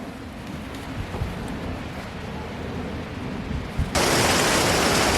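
Steady rain drumming on a greenhouse, a continuous broadband hiss with a few soft knocks, suddenly swelling louder and brighter near the end as the downpour intensifies or a door opens; no talking.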